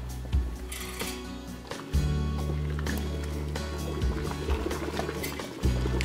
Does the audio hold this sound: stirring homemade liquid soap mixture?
yes